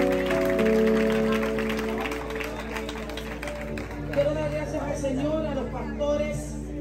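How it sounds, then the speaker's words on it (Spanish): A church congregation breaks into applause for Christ, a busy burst of clapping and crowd noise that thins out as a preacher keeps talking over it. "Ese aplauso a Cristo"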